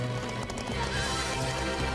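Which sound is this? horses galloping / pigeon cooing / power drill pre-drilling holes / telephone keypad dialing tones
horses galloping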